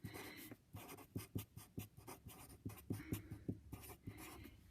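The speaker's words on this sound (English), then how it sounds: "Let me write this in black." Marker or chalk strokes on a classroom board during a chemistry lesson on atomic bonding, a steady run of short scratchy squeaks and taps, close and clear, with no talking over them.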